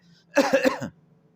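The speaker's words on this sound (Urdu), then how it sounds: "کھانسی کی بھی تھوڑی بہت تکلیف ہے، معذرت خواہ ہوں" A single fit of three or four harsh coughs in quick succession, close to the microphone, with a faint hum around it.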